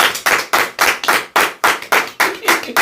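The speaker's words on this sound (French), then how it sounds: "Applaudissons pour le Seigneur." A church congregation claps together in a quick steady rhythm, about a dozen sharp, loud hand claps in under three seconds, close and unaccompanied by talk.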